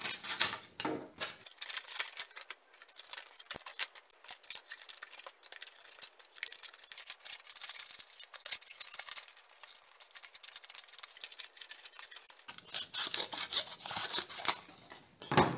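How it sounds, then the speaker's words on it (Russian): Ordinary scissors snip a cardboard egg carton into strips, giving a quiet, steady run of crisp cutting and rustling scrapes close by with no talking. "Для этого беру обычные ножницы и приступаю к нарезке."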